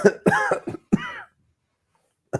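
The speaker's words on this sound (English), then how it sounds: "I'm coughing my guts out right now." A person coughs several times in a quick, harsh burst, close by, followed by silence and a final short cough.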